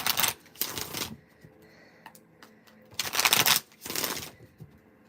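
Tarot cards being shuffled in quick riffling bursts, two pairs of brisk shuffles separated by a pause, close and clear with no talking.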